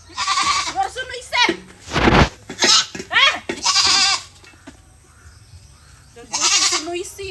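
A goat bleats loudly and repeatedly at close range, with several wavering, nasal cries in a row, mixed with human talk on a farm.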